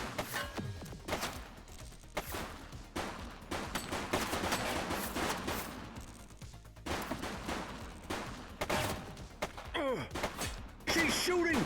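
Shots ring out during a police shootout in The Precinct, a crime action game, with scattered loud bangs and bursts across the scene, mixed with game sounds and occasional voices.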